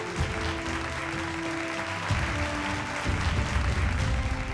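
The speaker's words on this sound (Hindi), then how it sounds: "एक बार जोरदार तालियां" Audience applause fills a hall at an e-commerce summit, continuous dense clapping with a steady tone running underneath, loud and sustained from start to finish.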